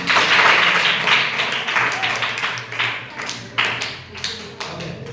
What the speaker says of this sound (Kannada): ಓಕೆ ಚಪ್ಪಾಳೆ ಇವರಿಗೆ